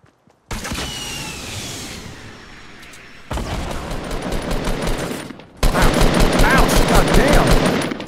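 Fortnite Battle Royale gunfire: bursts of rapid automatic shots that grow louder in two stages, ending in a dense, close volley.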